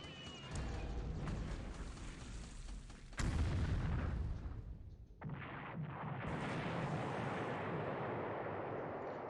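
Strafing runs and bomb blasts hitting ships in a World War II Pacific naval war game: sustained dense rumbling gunfire and explosions, with a sharp louder burst partway through, a brief drop, then continued heavy booming noise.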